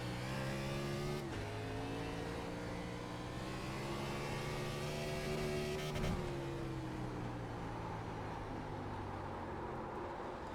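Race car engine in the iRacing sim at Portland, droning steadily near and loud with harmonic pitch shifts as the throttle is feathered and eased through a corner, rising and dipping without any talk.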